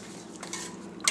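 Lye and oil being mixed by hand for soapmaking give a quiet, brief scraping stir in a container, with a couple of soft knocks and a sharper clink at the end.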